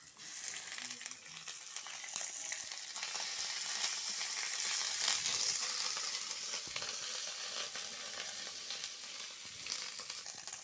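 Cumin paste frying in oil with garlic, dry chillies and bay leaves in a pan over a clay stove, a steady soft sizzle that swells midway and continues throughout, close by with no talking.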